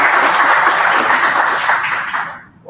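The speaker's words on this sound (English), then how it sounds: "Round of applause for Morten" A room of people at a lunchtime tech meetup gives a round of applause, dense steady clapping that fades out near the end, with no talking.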